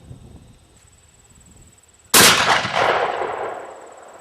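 A turkey shotgun fires a single loud, sharp blast from a Hyskore DLX precision rifle rest outdoors, after a quiet lead-in, followed by a long decaying rumble and echo.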